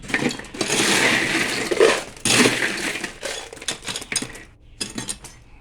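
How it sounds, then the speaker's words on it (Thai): Ice cubes are dropped into two glasses while plum soda is prepared, giving bursts of crunchy clattering and clinking, close and fairly loud, in several separate rattling pours. "แล้วก็ใส่น้ำแข็งนะคะ"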